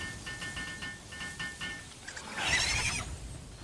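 A sheep creature bleating in the video game Palworld, a few short nasal bleats followed by a brief rushing noise, moderately loud with no talk.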